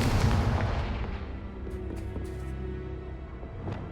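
A blasting-curse explosion in a fantasy adventure: a loud booming blast opens, then rumbles and decays slowly into a low roar with scattered crackles and small pops of debris.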